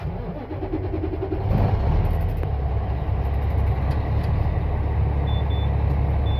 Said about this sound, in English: I turn on the truck.